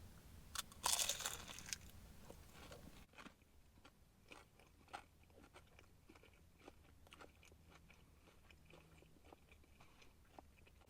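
A fried ham and chicken roll, a Chinese takeaway entree from Kar Wah Inn, is bitten with a loud crunchy crackle, then chewed close up in a run of small, sharp, irregular crunches.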